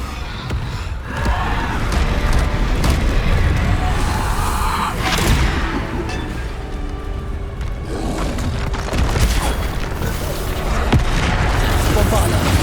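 Bombarda spell explosions boom in Hogwarts Legacy, several heavy blasts landing one after another over a loud, dense combat din, with a voice calling out spell names between them.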